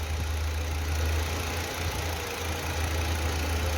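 A 2013 Volkswagen Jetta petrol engine idles steadily with a low, constant hum and a faint mechanical rattle, close and continuous throughout with no voices.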